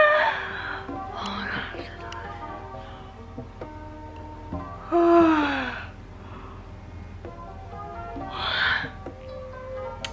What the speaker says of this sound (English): I was waiting to yawn.